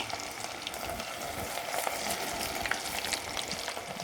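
Jewelweed dropped into hot oil for a medicinal salve sizzles and crackles steadily at close range, with no voices.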